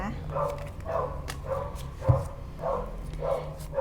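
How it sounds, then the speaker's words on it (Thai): A dog barks repeatedly at a steady, moderate distance, roughly one bark every half second, under a faint background hum, with no talk in the foreground. "หมาเห่านะคะ"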